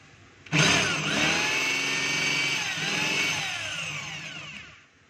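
DeWalt D25032 rotary hammer drilling into steel: a sudden loud, close grinding whine starts after a brief pause, holds steady with shifting metallic squeal and harsh rattle, then tapers off at the end.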